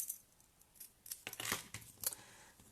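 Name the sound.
cutting paper in half with scissors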